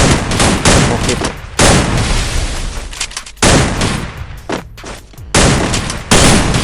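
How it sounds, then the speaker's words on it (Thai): Loud bursts of gunfire and grenade explosions in the game Free Fire come in rapid, repeated volleys, with a person talking briefly over the action. "ปาระเบิดไล่โดนระเบิดนะ"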